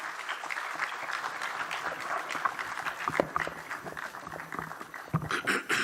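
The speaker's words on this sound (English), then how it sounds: "A hand of applause, please." Audience applause at a formal launch event attended by Kenya's deputy president, a dense, continuous patter of many hands clapping, moderately distant and steady throughout, with no talk over it.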